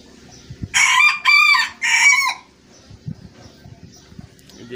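A Shamo rooster gives a loud, close crow in three drawn-out bursts, followed by quieter scattered clucks from the chickens nearby.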